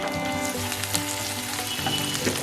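Garlic and ginger paste frying in a pan for chicken kabsa, producing a dense, close, continuous sizzle with light stirring, steady and unbroken, no voices.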